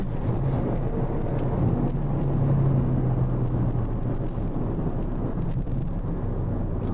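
Volkswagen Golf 1.4 TSI with manual gearbox pulling hard under acceleration, a steady loud low engine drone with a rising tonal hum, heard from inside the car with no talk.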